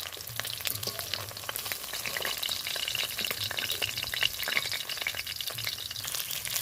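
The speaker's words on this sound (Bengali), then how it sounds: "এক করে উল্টে পাল্টে ভেজে নেব আমি এভাবে আমি সব মাছগুলো ভেজে নেব" Fish sizzle steadily in a hot pan, a continuous crackling hiss of frying oil with occasional sharper pops.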